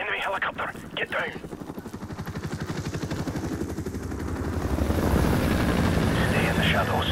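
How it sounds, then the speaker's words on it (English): An enemy helicopter in the Call of Duty: Modern Warfare campaign thumps loudly with a rapid rotor chop that swells closer, while gunfire crackles early on and a voice speaks over it. "Enemy helicopter, get down."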